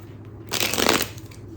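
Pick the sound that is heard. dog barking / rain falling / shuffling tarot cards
shuffling tarot cards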